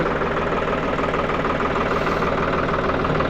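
A tractor working a field on a foggy morning during ploughing for wheat sowing, its engine droning loud and steady with a rough, continuous low rumble and no breaks, no talk.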